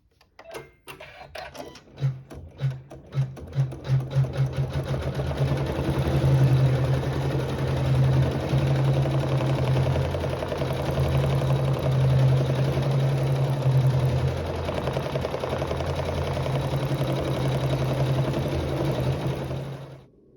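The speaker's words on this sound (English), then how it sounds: "we'll sew our feathered quilting" A sewing machine stitching a feathered quilting pattern on a quilt block starts with a few separate stitches, then settles into a loud, fast, even mechanical whir. It slows briefly midway, then carries on steadily until it stops.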